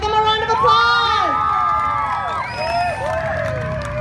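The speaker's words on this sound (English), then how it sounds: "Give them a round of applause." Crowd cheering and shouting for youth cheerleading champions, loud excited whoops and children's shrieks sweeping up and down over a dense roar, close and sustained throughout.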